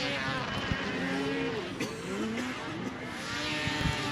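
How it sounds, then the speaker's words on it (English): A race car engine sputters and stalls in the final turn of a racing main event, heard as a loud, continuous roar of engines and crowd-level noise with wavering pitch, engine tones dipping and rising over a dense wash of track sound. "The engine sputters and he gives up the lead."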